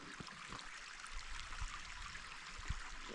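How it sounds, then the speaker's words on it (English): A small babbling brook in Kidland Forest trickles over stones, a steady close outdoor water hiss with faint low burbles and occasional soft splashes. "It's a lovely therapeutic noise, that, when the water's just trickling over the stones."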